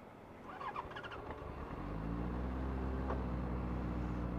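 A Benelli 600i motorcycle engine with stock exhaust starts up and settles into a steady, deep idle with a low rumbling drone, fairly close, with faint background traffic earlier.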